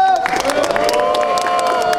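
Loud crowd at a Batalha do Coliseu rap battle (edição 124) cheering, whistling and applauding continuously, a dense roar with bursts of claps and whoops throughout, close and sustained.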